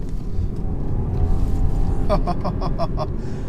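A 2019 BMW 320i with the B48 engine accelerates on the road, giving a loud, steady cabin rumble with a brief run of sharp rapid ticks near the end.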